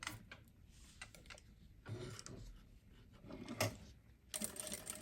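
Sewing machine stitching a 2.5 cm strap adjuster onto a handmade bag, with short buzzing runs of stitching broken by clicks and handling noises, close and fairly quiet.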